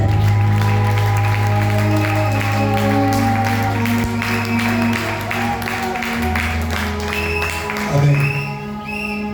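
A church congregation applauds through a sustained stretch of clapping, with a loud musical backing of keyboard and bass underneath and voices mixed in.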